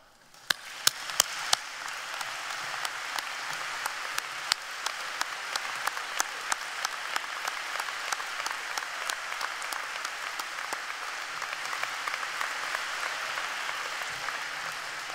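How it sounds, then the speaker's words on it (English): A standing ovation from the class of 2022 at the Fayetteville-Manlius school district commencement: a large crowd's steady, full applause, sustained the whole time, with a few sharp individual claps standing out near the start. "if I could indulge the class of 2022 in giving a standing ovation for Dr."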